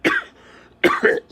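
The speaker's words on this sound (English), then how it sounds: "Excuse me, I got a cough." Two harsh coughs, the second a quick double burst, close and loud, with no talking.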